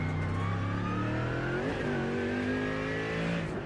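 A race car in a racing video game drives under aggressive throttle and hard braking, its engine droning steadily with pitch shifts as it slows and builds again, close and continuous with no voices.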